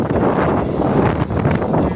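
Strong wind buffets the microphone in a continuous rough roar, with gusts swelling and easing, no voices heard.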